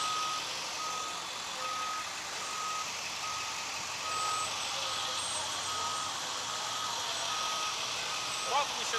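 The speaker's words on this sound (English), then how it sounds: "We got 3 fire trucks." Three fire trucks arrive at a car crash and power outage scene, with a repeated reversing beep sounding steadily over continuous engine rumble and background voices.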